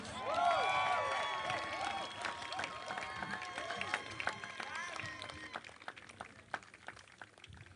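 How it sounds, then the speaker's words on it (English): A graduation ceremony crowd at Academic City University College applauds and cheers for a top mechanical engineering student. The clapping is loud, with shrill tonal whoops and whistles at the start, then thins into scattered claps. "A round of applause for Elizabeth Fio."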